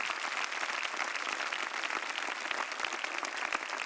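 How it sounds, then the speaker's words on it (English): An audience at a music performance competition semifinal applauding the performers, dense continuous clapping from a crowd heard throughout at steady loudness. "big round of applause for you"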